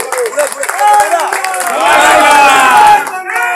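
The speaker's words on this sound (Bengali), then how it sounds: "সবাই জোরে করতালির মধ্যে দিয়ে করো।" A crowd at a railway hawkers' rally leaving Sealdah station claps and shouts together, a loud, close, dense mass of applause blended with raised voices.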